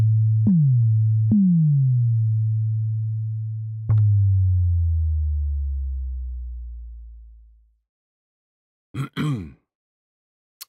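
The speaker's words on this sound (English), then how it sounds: "there are some sound effects drops, different ones, and I call them slow because essentially they're pretty slow" Slow synth effect drops: pure low tones that pitch down, a few struck in succession and then slowly gliding lower and fading to silence, followed by a brief, higher chirpy burst near the end.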